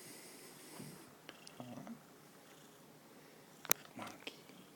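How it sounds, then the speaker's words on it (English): A cat purrs softly up close, a faint, low, steady rumble with a couple of small clicks and rustles, and no talking. "Wow, you purring."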